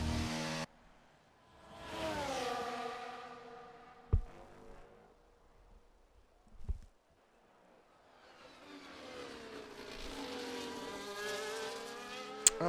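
Race cars in a racing game at the Belgium circuit roaring past in a Ferrari-contested race, each engine note swelling as it approaches and fading as it goes, with sharp gear-change blips between passes and quieter gaps.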